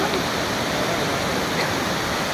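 Baabijhari waterfall swollen with rising flood water after rain, a dense, loud, unbroken roar of rushing water, close and alone.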